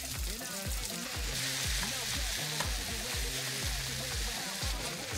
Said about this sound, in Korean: 고기를 볶으시려고 그러나?